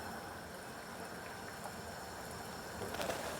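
A pot of rice and beans simmering on a stovetop, giving a steady low bubbling and watery hiss throughout, with a slightly louder burst of bubbling near the end.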